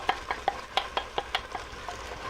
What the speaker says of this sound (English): we're going to put a nice medium chopped onion right into that mix there. So we'll let that kind of sizzle down.